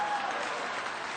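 A live theater audience bursts into brief, steady applause and cheering, a dense, even clatter of clapping lasting about a second.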